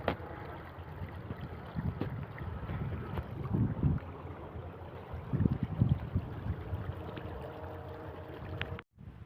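A water pump motor runs steadily while water flows to irrigate a farm plot, a continuous low rumble and rush with gusty wind-like noise, fairly faint and without talk.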